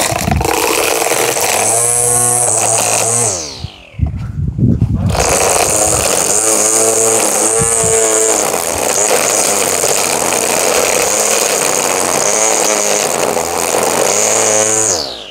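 A Hart 20V cordless 13-inch string trimmer runs loud and close with a steady high whine, briefly cutting out and spinning back up before whirring on at full speed.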